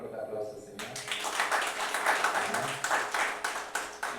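A church congregation at an evangelistic service breaks into loud, rhythmic clapping, rising after a quieter start and continuing steadily to the end, with voices mixed in.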